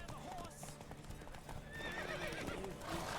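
Horse hooves clip-clopping in The Witcher 3 video game, a continuous patter of hoofbeats under a dense game soundscape with whinnies and a voice shouting.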